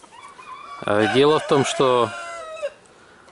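Two roosters cluck and crow, one loud, close crow with a harmonic-rich, stuttering rise and fall over a couple of seconds, while someone speaks briefly at the start.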